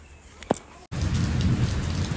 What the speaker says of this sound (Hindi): बारिश होने लग गया दोस्तों